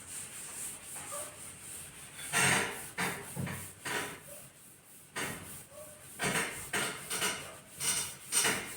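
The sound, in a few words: rubbing out writing on a board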